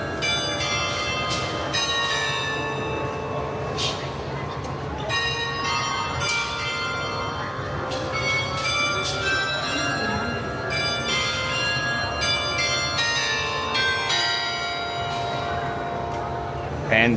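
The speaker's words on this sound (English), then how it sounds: "I didn't even notice the bells up there." Bells ring repeatedly from a tower at Lau Pa Sat in Singapore, clear bright strikes recurring over a busy background with people talking nearby.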